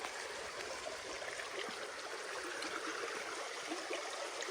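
A clear forest stream flows steadily in deep woodland, its broadband rushing and trickling water continuous and fairly close, with no voices over it.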